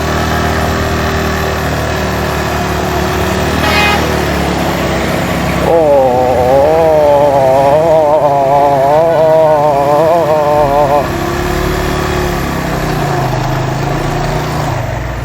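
A motorcycle engine labors up a steep uphill climb in first gear on a ride from Peshawar to Attock, its pitch rising and wavering under load in the middle, then settling back to a steady drone.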